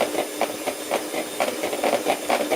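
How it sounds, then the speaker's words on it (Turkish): Electric hand mixer beating muffin batter with raisins in a bowl, a steady whirring hiss with rhythmic pulsing scrapes as the beaters move, close and continuous with no talking. "şimdi güzelce karıştırdık ve mikserimizi kapatıyoruz"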